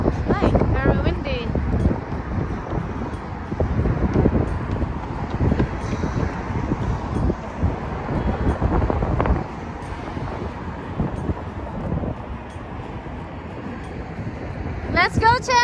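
Blustery wind buffets the microphone in continuous low rumbling gusts during a family walk outdoors, with brief voices talking at the beginning and end.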